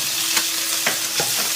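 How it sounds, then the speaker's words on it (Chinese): Lean pork stir-fries in hot oil with garlic and century egg, a loud continuous sizzle punctuated by three quick spatula stirs, close up with no voices. "瘦肉炒到变色"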